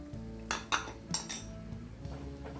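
Spoon clinking and scraping in a pot while herbal hair oil with onion peels, nigella seeds and hibiscus powder is stirred over low heat; a few sharp metallic clinks stand out over a low steady background hum.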